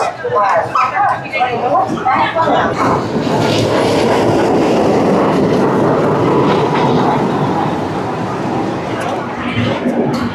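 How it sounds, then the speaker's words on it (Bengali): The Saraighat Express rumbles into a station with a loud, sustained mechanical roar and clatter, people talking over it at the start and end. "এই আমাদের ট্রেন ঢুকছে, সামনে দেখছেন।"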